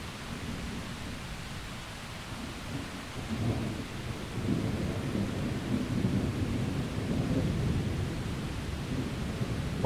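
Summer thunderstorm caught while hiking in the mountains: a steady wash of rain with low, rolling thunder that swells louder partway through and keeps rumbling to the end, with no voices.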